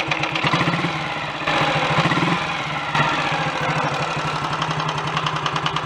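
A Royal Enfield Model G 350 single-cylinder motorcycle engine runs loud and close with a steady, rapid thumping beat, revving slightly in a couple of places.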